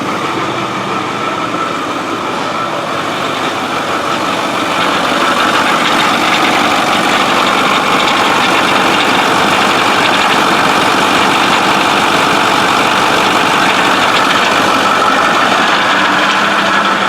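Engine bay of a 6.4 liter engine running steadily, with a continuous broadband whine and rumble suggesting a cavitating power steering pump drawing air, growing slightly louder after the first few seconds and heard alone without talk.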